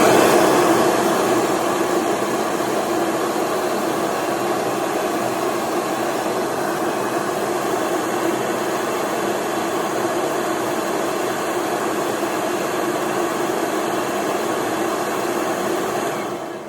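A Kirby vacuum cleaner, just repaired for a stuck transmission, runs as a steady, loud whirring drone that holds even throughout and tapers off only at the very end.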